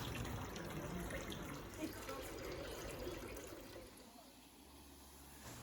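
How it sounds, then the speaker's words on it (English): Water rushes in a constant, soft wash in the Lauterbrunnen valley, Switzerland, fairly faint and steady, easing slightly toward the end. "the soothing sound of rushing water"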